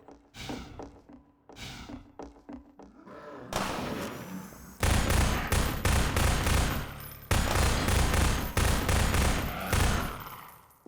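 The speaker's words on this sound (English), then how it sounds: "One enemy, one reload. SMG style." SMG gunfire in Half-Life 2, opening with a few scattered shots and then long, rapid bursts of loud automatic fire broken by short pauses.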